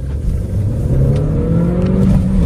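Manual-gearbox Mercedes A-Class A160 accelerating hard, its engine note climbing steadily through a single gear with a rising drone, loud and close from inside the car, no talking.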